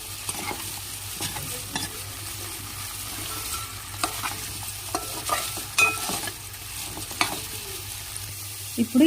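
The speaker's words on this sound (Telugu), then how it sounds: "ఇప్పుడు ఆయిల్లో ఈ ఆనియన్స్ మొత్తం కాసేపు కొంచెం ఫ్రై చేసుకోవాలి." Onions and potato pieces frying in hot oil for an aloo masala curry, with steady low sizzling and repeated scraping stirs of a spoon in the pan, close and continuous with no talk.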